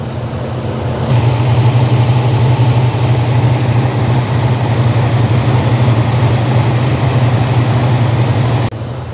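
Car engine with an electronic Quadrajet carburetor idling smoothly and close by, a steady low rumble with an even throb that holds constant for several seconds before dropping back slightly at the end.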